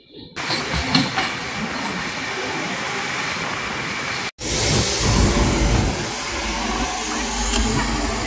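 A long-distance express train from Coimbatore to Silchar rumbles loudly along the rails in West Bengal, a continuous roar heard from inside the carriage, broken by a brief cut before it resumes just as loud.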